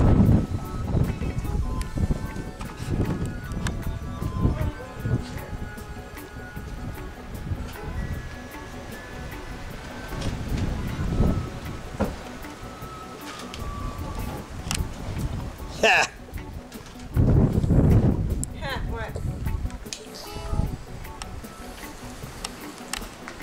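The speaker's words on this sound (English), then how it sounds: "It's windy out." Gusty wind buffets the microphone outdoors in a garden, rumbling in uneven bursts while people talk over it.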